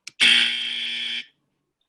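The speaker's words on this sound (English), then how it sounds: "you'll be hearing the buzzer sound when a point of information is raised" A single electronic buzzer at an online parliamentary debate marks a raised point of information, one loud steady tone held for about a second and then cut off.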